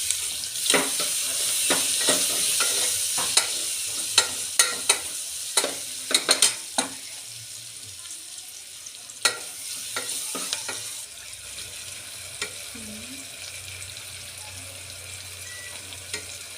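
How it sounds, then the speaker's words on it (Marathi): Tomatoes and onion with cumin and turmeric sizzle steadily in a pan for a vegetable pulao, with repeated sharp scrapes and knocks of stirring up close, then a softer, quieter sizzle. "आता हे टोमॅटो भाजून झालेलं आहे"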